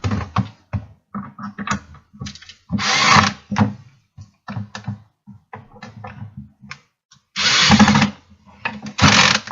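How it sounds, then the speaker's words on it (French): A power screwdriver drives screws into a homemade skateboard, three short whirring bursts between clicks, taps and handling noises, close up with no talk. "Donc maintenant, on va visser tout ça."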